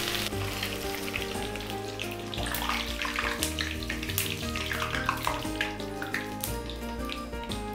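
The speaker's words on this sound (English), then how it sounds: "I'm just going to put it in for frying." Sweet corn tikki fries in hot oil, a dense crackling sizzle with frequent sharp pops, loud and close, holding steady from start to finish.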